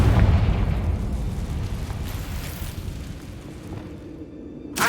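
A Confringo fire spell explodes in Hogwarts Legacy, a deep booming blast that rolls and fades over several seconds, followed by a brief sharp burst at the end.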